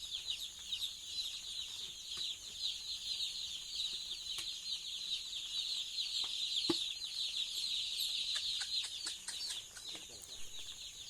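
Broiler chickens on a farm clucking softly while they drink water, a steady murmur of many birds close by with occasional sharper clucks and light knocks, no talking.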